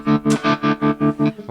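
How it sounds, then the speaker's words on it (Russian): An electric guitar holds a chord through a tremolo effect turned to maximum, its volume pulsing on and off in seven even, rapid throbs, loud and close with a slightly distorted edge. "гитара звучит с эффектом тремоло"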